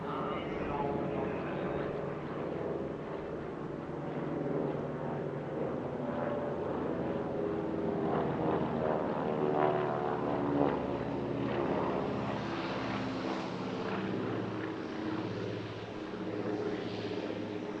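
Daher TBM 940 turboprop from a flight test department making a flypast at an airshow, a sustained engine drone that swells and fades as it passes, with people talking over it.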